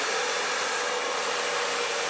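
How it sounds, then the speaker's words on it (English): A handheld blow dryer blows steadily through hair, a loud, even broadband whoosh of rushing air close to the mic that holds without a break from start to end, with no talk. "Pick up my blow dryer"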